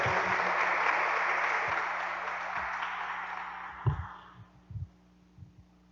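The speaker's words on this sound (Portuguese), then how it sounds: "vamos acolher o Padre Jailton com uma bonita salva de palmas" A church congregation gives a warm round of applause to welcome Padre Jailton. The steady clapping fades out after a few seconds, leaving a few soft thumps and near-silence.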